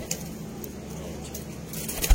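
Pigeons coo softly in a loft in Sialkot, a low murmuring under faint road traffic, continuous and moderately close for a couple of seconds.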